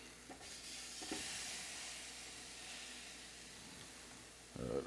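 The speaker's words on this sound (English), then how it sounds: "got that sizzle." Steady sizzling hiss of turkey legs cooking in a preheated Ninja Foodi XL indoor grill, constant and fairly faint, with a couple of light clicks and a brief clatter near the end.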